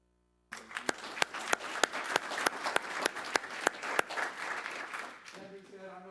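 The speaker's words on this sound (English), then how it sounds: "first of all, offer them a round of applause." A candidate forum audience applauds the county court candidates, a soft wash of many hands clapping with a few sharp, regular claps standing out nearby, then tapering off as a voice begins.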